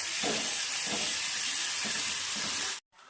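Crushed garlic and green chili fry in a pan with a steady, loud hiss and sizzle that holds for about three seconds and then stops abruptly.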